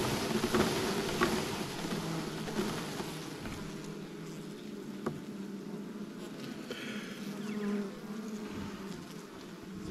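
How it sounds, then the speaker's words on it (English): Honey bees from a top bar hive buzzing in a dense, steady swarm as a frame is shaken, close and continuous outdoors with light wind. "I'm going to shake this frame off and check for brood."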